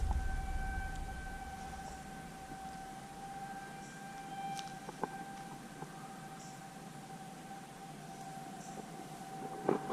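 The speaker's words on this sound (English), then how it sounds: "And while we listen to the sirens," A civil defense siren sounds during its quarterly test near a nuclear plant, a faint, steady distant wail held for the whole stretch over quiet outdoor background.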